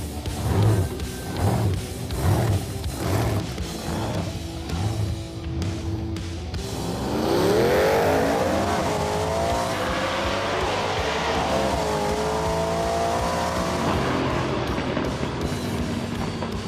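A 1000+ hp Pro Street Nova drag car revs in rhythmic bursts, then roars through a long, loud, sustained pass, its pitch sweeping upward through the gears with heavy low rumble.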